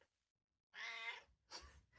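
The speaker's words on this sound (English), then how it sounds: "the cat that just meowed" A cat gives one clear, close meow after a short silence, followed by a brief breathy rustle or sneeze-like burst.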